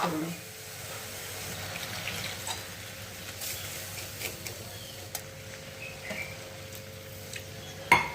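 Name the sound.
pouring milk into vermicelli roasted in ghee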